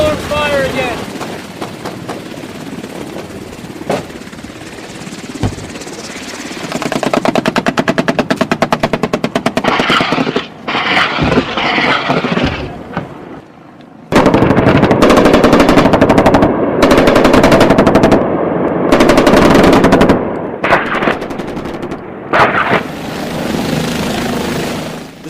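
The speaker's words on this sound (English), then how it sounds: "Taking small arms fire again." Rapid bursts of small arms gunfire crackle over the steady thrum of a helicopter at a US Marine outpost in Afghanistan, loud and close, with bouts of talk between volleys.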